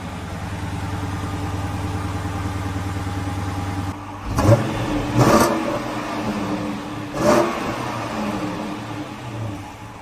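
A V8 car engine idles steadily, then revs sharply three times in quick bursts, each throaty roar settling back to a rumbling idle, heard up close.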